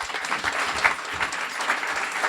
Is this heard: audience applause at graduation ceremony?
yes